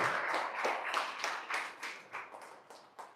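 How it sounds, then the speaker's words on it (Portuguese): A church congregation claps and applauds during an Easter Sunday service, fairly faint, with rhythmic bursts of hand claps fading toward the end. "Aplaude o Senhor mais uma vez."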